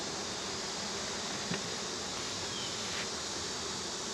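Honey bees swarm around hive frames as a nuc colony is moved into a ten-frame hive, giving a steady, dense buzzing drone that stays even throughout with one or two faint clicks.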